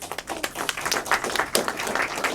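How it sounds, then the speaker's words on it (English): A small conference audience claps in quick, uneven bursts, the applause sparse and light rather than thunderous, with no voices over it. "let's give her a round of applause"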